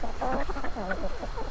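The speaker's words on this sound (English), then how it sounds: "There's my little rooster." Chickens clucking close by in a busy, continuous flurry of short calls, with no talking.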